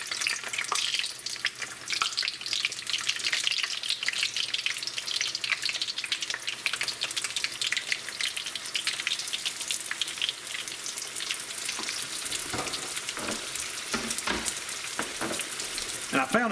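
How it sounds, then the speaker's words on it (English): Steady, dense crackling sizzle of raccoon-meat egg rolls frying in hot peanut oil, continuous throughout, with a few louder pops toward the end. "Any oil is good for frying"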